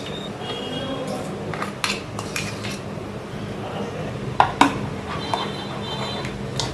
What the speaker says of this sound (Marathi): चांगलं मिक्स करून घेऊया छान असं फेटून घेतले